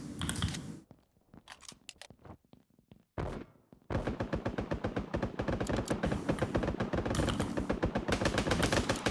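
Gunfire in the battle royale game MiniRoyal: scattered sharp shots and short bursts early, then a sustained rapid machine-gun stream of evenly spaced cracks, loud and near.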